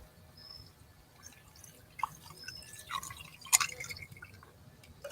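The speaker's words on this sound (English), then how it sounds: "We're gonna pour this over." A drink poured over ice into a glass: soft trickling and a few clinks of ice, building to a brief louder splash near the end, faint and close with no talking.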